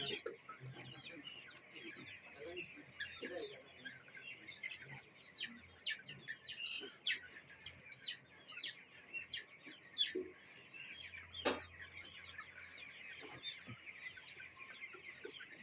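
Desi chickens cluck and squawk continuously on a poultry farm during chick beak trimming, a busy flock close by with overlapping calls and occasional sharper cries.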